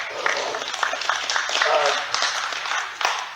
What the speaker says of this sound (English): Give a round of applause to the guys for doing that.